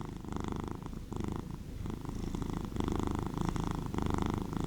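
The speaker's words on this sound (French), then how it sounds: "je vais vous donner des petits ronronnements qui sont trop mignons" A cat purring up close, a steady, loud rumbling purr with a regular pulsing rhythm, continuous and alone without any talk.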